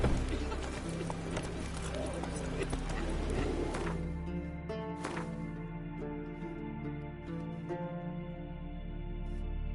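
In The Witcher 3, the horse Roach gallops with rapid, rhythmic hoof clip-clops under game music and effects, steady and close throughout, while a voice speaks over the action.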